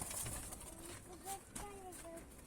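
A pigeon coos softly in a few low, rolling calls close by, quiet against faint background rustle.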